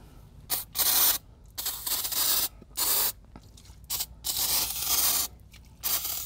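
Repeated bursts of spraying on an Infiniti Q50 Red Sport 400 brake setup, hissing on and off in irregular pulses of about half a second to a second, close and fairly loud, with no talking.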